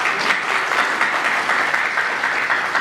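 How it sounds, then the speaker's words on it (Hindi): Loud, steady applause from an audience at a book launch, a dense continuous wash of clapping that holds at full strength throughout without pause. "आप ही को कहूंगी कि जोरदार तालियां हो जाए।"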